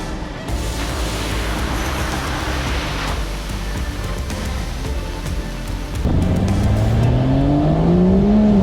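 A Toyota Land Cruiser of the 45 or 80 series driving off-road in Cape York, with a loud, steady engine and road roar that rises into a climbing engine whine as it speeds up near the end.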